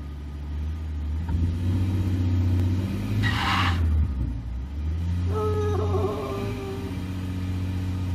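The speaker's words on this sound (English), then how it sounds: "you can simulate it by brake torquing the engine" A Ford F-150 with the 3.5L EcoBoost engine, which has a misfire fault, is brake torqued in drive: a steady loud low engine drone that swells in the middle, with a brief hiss partway through, running throughout.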